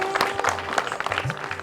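Audience clapping at a Hindi-language Buddhist quiz gathering, a steady patter of many hands filling the short stretch without a break.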